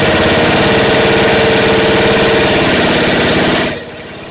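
Snapper 28-inch riding mower engine running loud and close with a rapid, even chugging pulse, then cutting out abruptly near the end as it shuts off, leaving a quieter low rumble.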